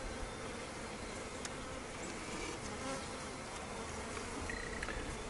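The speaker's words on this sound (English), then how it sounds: "the bees that get themselves glued on there" Honeybees from a newly installed bee package buzzing around the hive, a continuous steady drone of many insects close by, with no voices.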